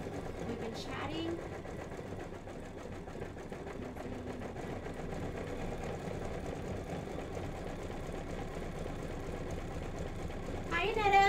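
An embroidery machine stitches out a Tweetheart pillow design with a steady, fast mechanical whir and needle chatter that runs throughout, while people talk over it.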